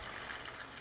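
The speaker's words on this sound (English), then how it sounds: "now what I'm going to do is just add a cup of water" A cup of water splashes into a simmering pan of Jamaican brown stew fish gravy with caramelized sugar, onions and peppers, making a brief, steady gushing pour up close.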